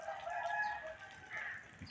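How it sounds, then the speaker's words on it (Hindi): Roosters crowing in the early morning in a quiet village lane in Pakistan, with a sustained harmonic call rising and falling over about two seconds, moderately loud against faint background ambience. "मुर्गों की बांग भी सुनाई दे रही है"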